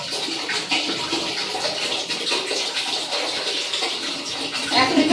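Water pours steadily into a cooking pot for a one-liter batch of chow mein, a continuous splashing rush running the whole time, with a voice briefly audible near the end.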